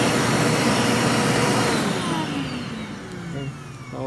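A vacuum cleaner with a repaired hose, mended after a hole or cut, runs with a loud, steady close-up whir, then the motor pitch slowly drops as it begins winding down.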